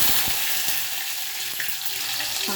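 Mustard seeds and cumin crackle in hot oil as a tempering for egg curry, a continuous close sizzle with scattered small pops and a spoon tap or two.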